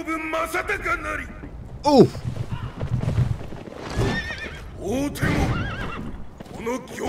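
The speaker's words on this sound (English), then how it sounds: "What is that horse?" A horse whinnies several times in the game Sekiro, with hoofbeats and busy background effects layered underneath.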